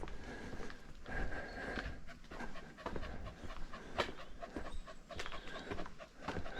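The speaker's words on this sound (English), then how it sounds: "Don't let the dog out" A dog pants rhythmically nearby in quick, fairly faint breaths over a low background hum, with occasional snorts and soft shuffling.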